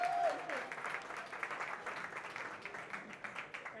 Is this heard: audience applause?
yes